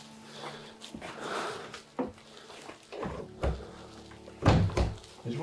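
A door in an abandoned, fully furnished house being tried, with several dull thunks and rattles of the handle and frame at irregular intervals, close by, the heaviest knocks coming late.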